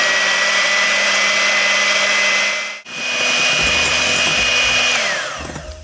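Electric hand mixer whipping egg whites with lemon juice and salt at medium speed for an angel food cake, a steady close motor whine that briefly cuts out, then resumes with bowl-scraping rattles.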